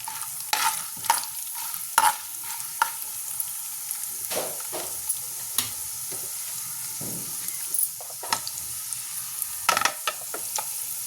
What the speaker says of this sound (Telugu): ఒక 1 స్పూన్ ఆవాలు, ఇవన్నీ వేసుకొని బాగా ఫ్రై చేసుకుందామండి.